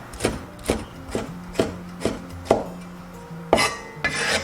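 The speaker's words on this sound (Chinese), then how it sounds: "准备几根小米椒切圈" A knife chops small red chili peppers into rings on a board, with about nine crisp, evenly spaced strikes in a steady rhythm, close and clear, with no voices.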